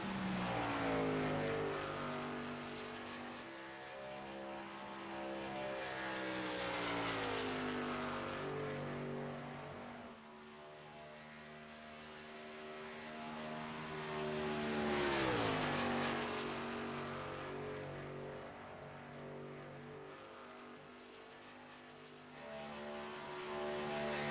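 A race truck lapping Chicagoland Speedway in a qualifying run, its engine droning loud and sustained, with pitch rising and falling as it passes and circles the oval, alone without talk.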